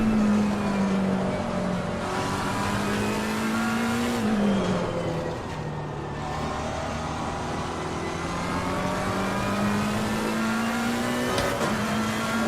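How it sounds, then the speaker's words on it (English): Race car engine from the sim racing game Assetto Corsa Competizione, practising at Silverstone, playing in a room: a steady, loud engine drone whose pitch climbs and drops through gear changes, with no talk. "I've got engine sounds playing in the room."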